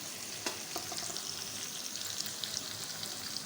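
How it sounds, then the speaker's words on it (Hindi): Onions frying in a pan toward light golden brown, a steady close sizzle with small crackles and occasional stirring, no talk. "प्याज को थोड़ा सा हम गोल्डन ब्राउन ही करेंगे, थोड़ा सा लाइट ब्राउन सा बस करेंगे"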